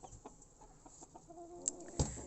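A red porcelain rooster clucks softly in a hutch, a few faint, scattered clucks over quiet background with one sharper call near the end.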